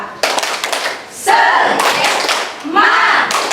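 A class of schoolchildren performs the tepuk semangat clap chant during an ice-breaking activity, with loud bursts of group clapping in rhythmic clusters mixed with children's shouted voices, close and energetic.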